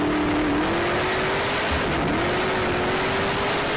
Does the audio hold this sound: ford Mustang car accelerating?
yes